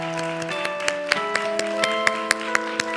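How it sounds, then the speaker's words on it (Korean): Clapping from a church youth congregation at a Christmas Sunday service sounds as a series of crisp, regularly spaced claps over sustained musical tones, moderately close and steady throughout. "우리 따뜻한 박수로 격려해 주세요"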